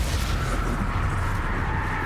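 Confringo blasting curse explosion in a Harry Potter video game: a sustained, loud, rumbling blast with a crackling roar that holds steady throughout.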